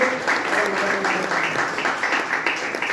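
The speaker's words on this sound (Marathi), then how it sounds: "त्यांच्यासाठी सुद्धा जोरदार टाळ्या वाजवा सगळ्यांनी" An audience applauds for a visiting TB department head at a hospital ward gathering, steady close clapping with a few louder bursts and some voices mixed in underneath.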